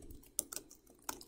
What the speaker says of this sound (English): let me just type this down